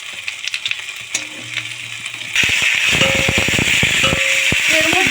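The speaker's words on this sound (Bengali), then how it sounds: "দিয়ে দেব দুটো শুকনো লঙ্কা, দুটো তেজপাতা, একটু পাঁচফোড়ন। একটু ভালো করে ভেজে নেব আমি।" Dried red chillies, bay leaves and panch phoron hit hot oil and fry with a sudden loud steady sizzle, with clinks of a spoon against the pan, after a few seconds of quieter kitchen clatter.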